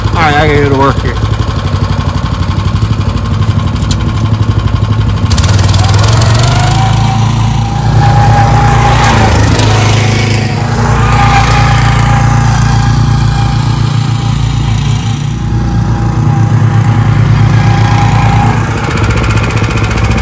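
A walk-behind lawn mower with a Briggs & Stratton Vanguard engine runs steadily at close range, a loud continuous drone with a low throbbing hum, holding its pitch throughout with only slight surges.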